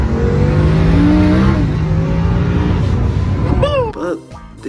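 A twin-turbo Lamborghini engine revs and drones loudly, pitch climbing and falling, then sharp throttle blips rise and drop near the end.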